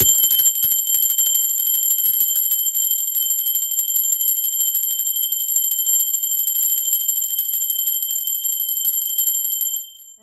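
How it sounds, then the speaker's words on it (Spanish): A bell gives a loud, sustained, high ringing that holds steady for about ten seconds and then cuts off abruptly. "A ver, va campana."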